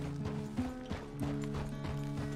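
Horse hooves clip-clop at a steady walking pace in Red Dead Redemption 2 at Pronghorn Ranch, with even, regular beats under a constant low droning game background.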